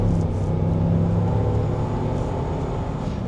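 A Holden Monaro CV8 V8, automatic in power shift mode, pulls hard under throttle with a deep, steady engine drone and rising harmonic tones heard from inside the cabin, loud and continuous throughout.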